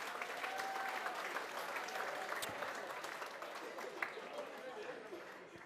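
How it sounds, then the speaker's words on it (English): A round of applause from an audience at a Melbourne Cup tour event at a wharf in Port Fairy, dense clapping that slowly fades toward the end, with murmured chatter underneath. "another round of applause for Wally Sheen and Steve Dwyer"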